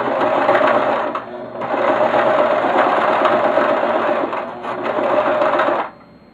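A sewing machine stitches through a thick fabric passport cover in fast, loud mechanical bursts, pausing briefly twice before stopping, with no talking.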